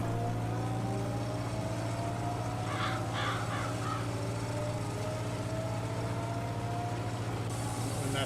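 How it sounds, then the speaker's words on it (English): Tractor engine in Farming Simulator 22, vintage 1954 farming: a steady low drone runs throughout while a crow caws a few times partway through, and a faint hiss joins near the end. "The tractor's pretty darn loud."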